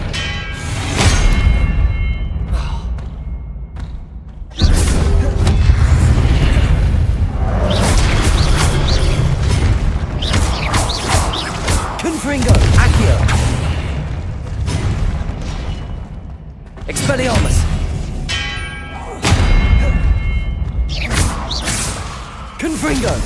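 Explosive Confringo spell blasts in Hogwarts Legacy, a series of loud booming bursts with whooshing impacts, coming in clusters separated by short gaps, with a voice shouting spell names between them.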